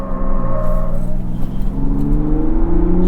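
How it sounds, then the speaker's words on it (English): 2022 Ford Bronco Raptor with its 10-speed automatic accelerating hard while stability control cuts in, a loud steady engine drone with pitch climbing toward the end, heard from inside the cabin. "You hear the stability control?"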